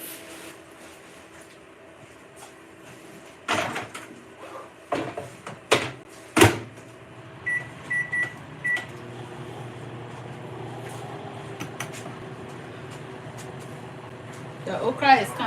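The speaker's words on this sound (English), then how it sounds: "I'm gonna put it in the microwave for about" A kitchen microwave oven is loaded with okra for cooking, bringing door thumps and clunks, a short series of electronic beeps, then a low steady hum; a person talks intermittently throughout.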